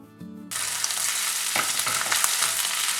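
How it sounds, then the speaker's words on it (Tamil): Ginger and green chilli sauté in hot oil, a loud, steady sizzle bursting in after a brief quiet moment, with occasional stirring clatter and no talking. "இது ரெண்டுமே இந்த ஆயிலே ஒரு ஃபியூ செகண்ட்ஸ்க்கு சாட்டே பண்ணிக்கணும்."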